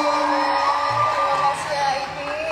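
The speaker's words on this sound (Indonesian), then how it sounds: "minta tepuk tangannya sekali lagi buat Mang Ali." An audience at a live concert cheers and whoops continuously, with a voice and tonal sounds carrying over the crowd noise.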